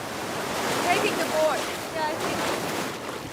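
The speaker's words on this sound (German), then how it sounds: "Fühle die Wellen." Ocean surf washes steadily during a surf-therapy lesson, a broad continuous rush of waves and wind noise with faint voices and a few brief tonal chirps mixed in.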